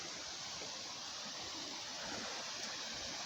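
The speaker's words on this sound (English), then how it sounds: "fast flowing stream." Gower Brook, a fast-flowing stream, rushes steadily and close by, a constant broadband wash of water without pauses or voices.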